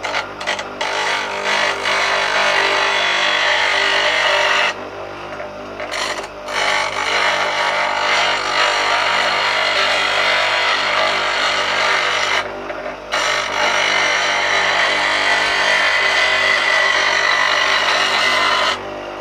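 Bench grinder sharpening a chisel, with a continuous harsh grinding rasp broken by two short pauses where the steel lifts off the wheel; loud, close and without talk.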